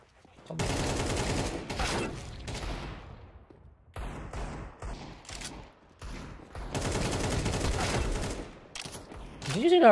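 AK rifle fire in a first-person shooter video game, loud sustained bursts of rapid automatic shots in three long volleys separated by short pauses.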